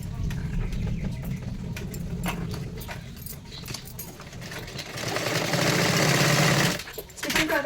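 Sewing machine stitching the lining seam of a size 44 katori blouse, a steady mechanical whirr running throughout and swelling louder near the end before a brief pause and restart.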